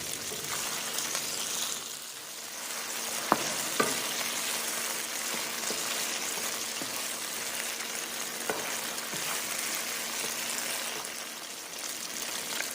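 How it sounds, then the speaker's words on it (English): Steady sizzling and crackling of chicken frying in oil for chow mein, with occasional sharp clacks of a utensil against the pan. "Fry the chicken until they look brown on the both sides."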